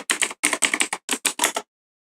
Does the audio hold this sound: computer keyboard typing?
yes